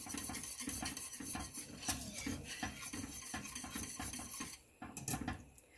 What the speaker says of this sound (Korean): 저어가면서 푹 끓여주세요.